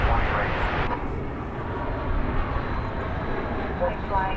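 A jet airliner roars steadily at DFW Airport, a broad continuous engine rumble filling the air while a voice talks over it.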